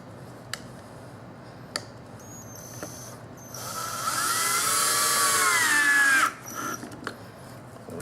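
Power drill driving a screw into a wooden bathroom vanity drawer, a sustained rising whine of about three seconds after a few faint ticks and clicks, with no talk.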